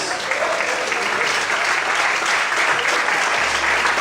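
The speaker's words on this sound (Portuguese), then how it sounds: "aplauda e exalte a Deus bem forte" Church congregation applauding loudly in praise to God, a thick continuous roar of clapping from a large crowd that holds steady to the end.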